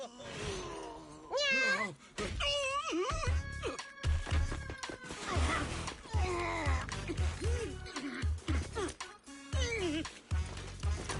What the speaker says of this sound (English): She's just some lousy cat.